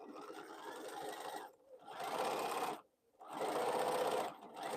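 A sewing machine stitches fabric bows in three steady running bursts separated by brief pauses, close and clear with no talking.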